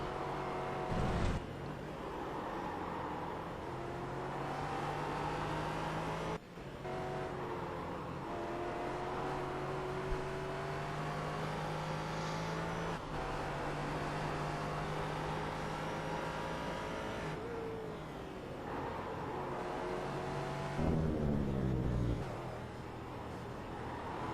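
A race car engine in a racing video game at Suzuka, a steady high-revving drone with pitch rising through the gears, each upshift marked by a clean break, running alone and continuously for the whole stretch.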